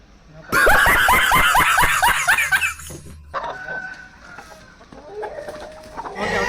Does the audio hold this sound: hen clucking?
yes